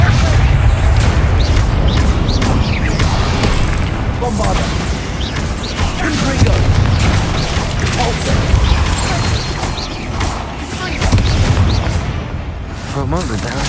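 Confringo spell explosions in the video game Hogwarts Legacy crash and boom in rapid succession, loud and dense, with combat clatter and spell effects packed over one another throughout.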